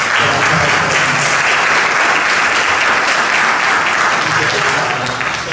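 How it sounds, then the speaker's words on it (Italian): Loud, even audience applause welcoming a guest at a town event, continuous hand clapping from a close crowd lasting several seconds. "benvenuto a Pellezzano, a Beppe Convertiti, ti facciamo un applauso."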